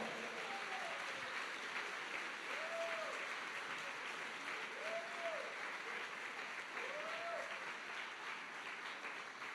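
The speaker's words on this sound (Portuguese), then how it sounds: "Se você crê, dá um aplauso para o Senhor" A congregation at an evangelical church service claps steadily for several seconds, an even, fairly distant wash of applause with a few faint vocal sounds rising through it.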